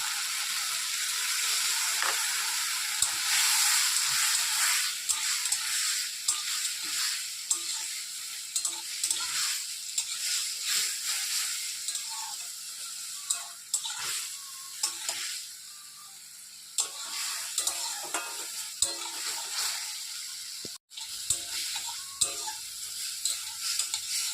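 Mustard paste and turmeric frying for a rohu fish curry with okra, a steady loud sizzle with stirring scrapes and clacks throughout, no talking.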